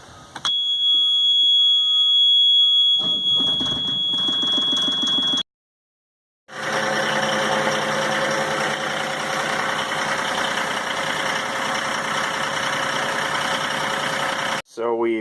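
A Yanmar marine diesel engine cranks after a steady tonal hum, stops briefly, then starts and runs at a steady loud idle, being winterized with plumbing antifreeze flushed through it.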